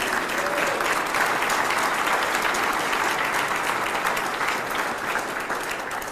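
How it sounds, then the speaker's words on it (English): A large audience at a Youngstown mayor's State of the City address applauds City Hall staff with loud, dense, sustained clapping that holds steady throughout. "if you would stand and give them a big round of applause"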